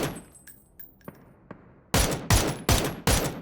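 Gunfire in the battle royale game PUBG: a few faint, distant single shots, then four loud, close blasts fired at an even rhythm, each ringing out briefly.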